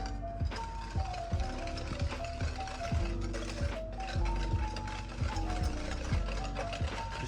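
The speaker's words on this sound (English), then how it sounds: "Whisking vigorously. Try to mix the sugar and the egg yolks." Egg yolks and sugar are whisked vigorously in a bowl, producing quick, regular clinking strokes up close, with a tonal melody playing steadily behind them.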